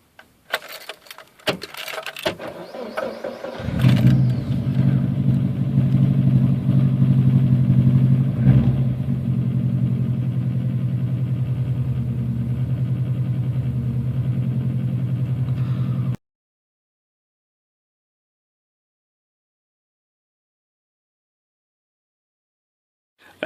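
A 1998 Subaru WRX GC8 idles with a fluctuating, wandering rev level. A few close clattery knocks come first, then a steady, loud engine drone runs for about twelve seconds before cutting to silence.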